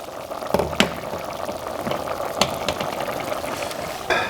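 Sauce for hoplama simmers in a pot as potatoes are added, giving a gentle bubbling, liquid hiss with a few splashy knocks and clinks of utensils nearby.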